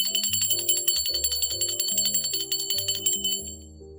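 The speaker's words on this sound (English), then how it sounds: "I'm going to ring my bell for my spirit guides, guardian angels, and ancestors." A handheld bell rung in a spiritual ritual to call on spirit guides, guardian angels and ancestors: bright, shimmering strikes repeated rapidly for about three and a half seconds, then a brief fading ring, with a low tonal drone underneath.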